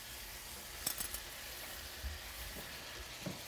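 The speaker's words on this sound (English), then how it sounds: "Let's toast some rice, shall we?" Arborio rice toasting in a pan with garlic and smoked paprika for paella, a quiet steady sizzle with a few soft stirring scrapes and taps.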